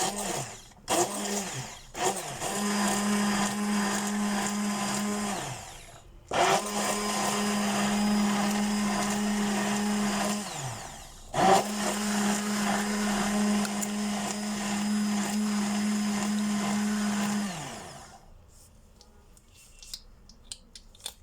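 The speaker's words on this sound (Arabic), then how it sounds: "هبتدي اضربهم بالهاند بلندر وهنزل عليهم بعد كده بالزيت تدريجيا" Hand blender whirring steadily through spices and oil for eggless mayonnaise, running loud in three long bursts with brief pauses between, then stopping near the end.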